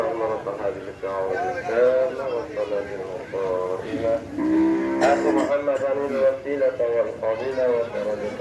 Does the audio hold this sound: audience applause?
no